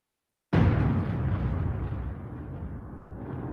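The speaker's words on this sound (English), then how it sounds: "The thunder." Thunder breaks suddenly out of silence with a loud, close crack, then rolls into a long, heavy rumble that slowly fades.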